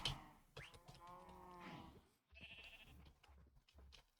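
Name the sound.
cow mooing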